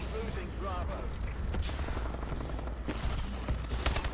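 Submachine gun fire in a video game, bursts of rapid shots crackling close and steady throughout, with dense clatter over a constant low hum.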